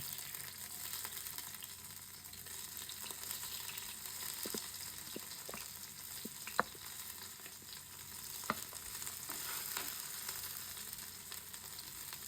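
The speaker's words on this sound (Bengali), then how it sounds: "হালকা একটু সয়াটা ভাজা দিয়ে নেবেন" Soya chunks frying in a hot pan, a continuous soft sizzle with occasional scraping stirs and a few sharp clicks, fairly quiet and with no talking.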